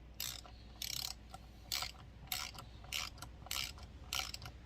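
A bolt on a McCulloch chainsaw is tightened with a ratchet, giving seven or eight evenly spaced rasping clicks up close. The clicks are fairly quiet and no one talks.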